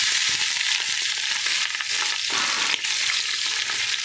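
Onions and green chillies sizzle loudly in hot oil in a pan for mutton biryani, a continuous close frying hiss broken by brief dips and stirring scrapes, no voices.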